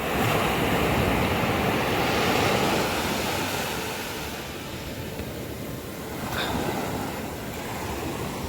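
Sea waves break and wash up on the sand at Cherai beach, a loud, continuous roar of surf that swells and eases gently, with some wind buffeting and no voices.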